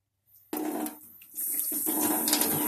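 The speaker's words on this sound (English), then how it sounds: "you can just pour the water off." Water is poured off a candle mold while making new candles from old candles, a steady splashing flow that starts abruptly, dips briefly, then runs on loud and close.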